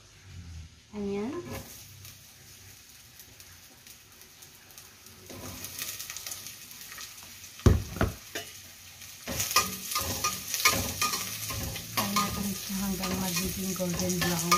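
Onion dropped into a little oil in a pan for Japanese curry: quiet at first, then a sudden burst of sizzle that keeps crackling and scraping, growing louder, with a voice speaking early on.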